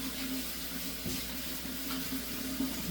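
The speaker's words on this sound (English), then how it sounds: "Make sure and wash your hands." Tap water runs steadily into a sink while hands are washed beneath it, a soft, continuous splashing stream with a brief clunk partway through, fairly quiet and close.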